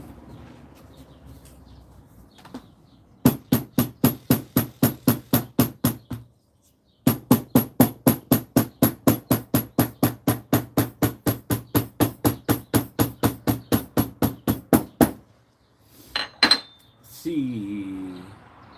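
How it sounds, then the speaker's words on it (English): Rapid series of sharp hammer strikes flattening the double saddle stitching on a leather piece, about thirty evenly spaced blows in two runs with a short pause between, close and loud, followed by brief voices. "Let me hammer this down."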